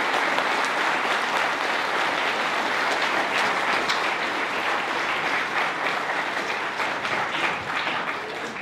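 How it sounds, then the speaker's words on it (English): Loud, thunderous applause fills a hall at a college investiture ceremony for the year's student office bearers, a dense, continuous crowd of clapping hands holding steady throughout. "Please put your hands together and give a thunderous applause to the office bearers for the year"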